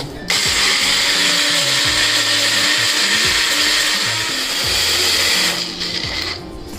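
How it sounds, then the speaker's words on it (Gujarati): A mixer grinder whirs loudly and steadily, blending a paste of roasted kantola (spiny gourd) with a little water for chutney, running for several seconds before winding down at the end. "હવે મિક્સર જારનું ઢાંકણ બંધ કરીને મિક્સરમાં આપણી ચટણી માટેની પેસ્ટ તૈયાર કરી લઈશું।"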